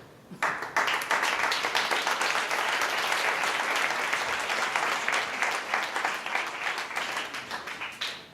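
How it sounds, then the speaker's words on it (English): A summit audience breaks into loud, sustained applause for the volunteers, dense clapping starting abruptly and holding steady for about seven seconds before tapering off. "I think they merit also a big applause for their help"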